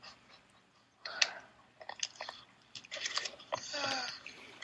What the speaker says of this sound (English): Over here, we call these little thin, crunchy potato slices chips.